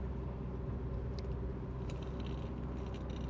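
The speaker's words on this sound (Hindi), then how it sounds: "बैंकॉक सिटी बहुत बिजी सिटी है यार और इधर ट्रैफिक का जो है ना बहुत ज़्यादा प्रॉब्लम होता है।" Busy highway traffic in Bangkok makes a steady low rumble of engines and tires, continuous and fairly loud, with occasional faint higher-pitched noises above the drone.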